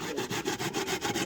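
A carrot is rubbed rapidly against a hand grater in an outdoor kitchen, giving a quick, even series of rasping strokes, about eight in just over a second, close and fairly quiet.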